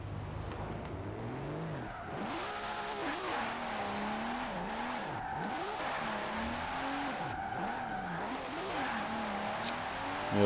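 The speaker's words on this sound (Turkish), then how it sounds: "Ana yolda bir donut yapmayı deneyelim." In Forza Horizon 4, a 2002 Nissan Skyline GT-R R34 V Spec II revs and swings through a donut attempt, its engine note rising and falling in repeated sweeps under continuous tire squeal, close and sustained.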